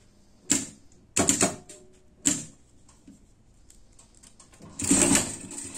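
A sewing machine stitches a seam on a pet harness, running in four short, loud bursts of rapid mechanical clatter separated by quiet pauses, with the last run the longest.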